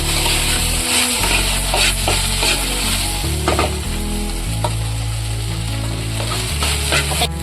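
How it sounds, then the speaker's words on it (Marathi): Okra sizzles steadily in hot oil in a pan as it is stir-fried and turned, with a continuous close frying hiss and occasional clinks and scrapes from stirring, without speech. "भेंडीला बी थोडासा लालसर कलर येईपर्यंत आपण हलवून घेऊ। तेलामध्ये छान परतून घेऊ।"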